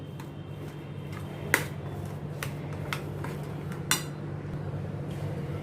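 Mashed potato and salt filling is stirred in a bowl, giving a few faint, scattered clinks of a utensil against the bowl over a low, steady background hum.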